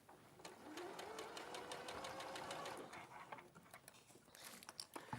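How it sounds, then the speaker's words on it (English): A domestic sewing machine with its tray removed stitches steadily around a neckline to hold the lining in place, a close, continuous whirring run of needle strokes that slows and stops near the end. "So I've kept the little tray off the sewing machine"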